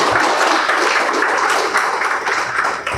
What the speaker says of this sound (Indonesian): Boleh aplaus dulu.